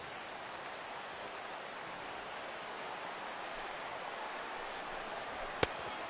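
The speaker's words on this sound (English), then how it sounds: "The rain, as we've mentioned, coming down fairly steadily here at game time." Rain comes down steadily during a baseball game in MLB The Show 16, a soft, even hiss throughout with one sharp click near the end and no talk.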